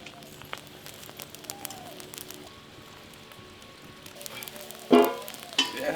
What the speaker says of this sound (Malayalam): തേങ്ങയൊക്കെ ഒന്ന് ചുട്ടെടുക്കാം